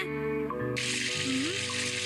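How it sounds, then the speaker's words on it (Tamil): Cartoon train washroom tap turned on, a sudden steady hiss of gushing water starting partway through over a tonal musical background. "அட அருவி மாதிரி தண்ணி கொட்டுதே."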